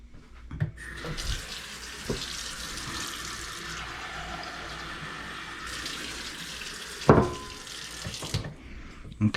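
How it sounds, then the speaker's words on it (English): Warm water runs steadily from a kitchen tap for several seconds, a continuous splashing hiss with a few louder clatters and bumps of something being moved in the stream. "I'm adding a little bit more warm water"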